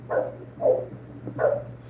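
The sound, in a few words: dog barking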